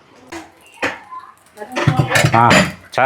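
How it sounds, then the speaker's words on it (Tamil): Cooked rice is being mixed in a large pot for a big iftar meal, with metal scraping and clanking of a ladle against the pot, close and fairly loud, while people talk nearby. "சோத்தை வந்து கலக்கிட்டு இருக்காங்க"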